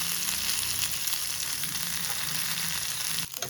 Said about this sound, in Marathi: तेल जे आहे तवा थोडासा टिल्ट करून असं भाजायचं